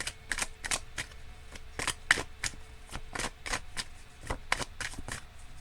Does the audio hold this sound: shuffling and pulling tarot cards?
yes